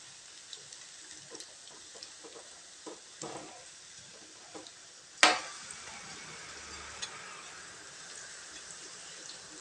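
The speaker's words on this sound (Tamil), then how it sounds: "போண்டா வெந்ததும் ஒன்று ஒன்றா எடுத்துடலாங்க" Wheat flour vegetable bondas fry in oil with a quiet, steady sizzle, broken by small pops and clicks and one sharp clatter midway.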